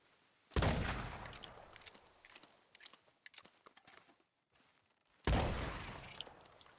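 Two loud, sharp gunshots several seconds apart in a PS4 game, fired at a skunk, with quieter rustling and clicking between them.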